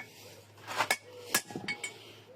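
A rear wheel bearing race on a Daewoo Lanos is knocked out with a few sharp metallic taps in an uneven rhythm, fairly close and otherwise quiet.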